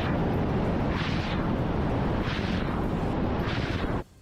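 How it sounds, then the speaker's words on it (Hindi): Attack helicopters unleash a barrage of missile strikes in a Russian air assault on Ukraine, heard as a loud, continuous roaring rumble with repeated whooshing surges, cutting off abruptly near the end. "उनसे मिसाइलों की ऐसी बरसात शुरू हुई मानो जंग पर बनी किसी फिल्म का सीन शुरू हो गया हो"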